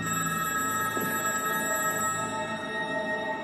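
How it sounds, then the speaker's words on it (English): A telephone rings with a steady electronic bell tone repeating over several seconds, clear and alone with no voices. "As they're heading out the door, the phone rings."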